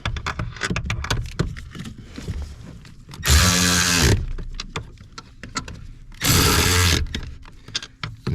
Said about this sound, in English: this ratchet only goes to 30 foot-pounds, so I'm not going nuts